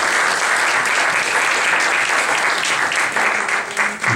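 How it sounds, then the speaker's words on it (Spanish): Audience applause at the close of a talk at the Casa de España: dense, steady clapping from a full room that holds for about four seconds with no voices over it. "el aplauso es para todos ustedes"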